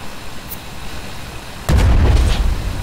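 Cannon fire in the video game Worlds Adrift: after a quiet stretch, a single loud, close blast breaks out and then rolls on into a rumbling, crackling tail.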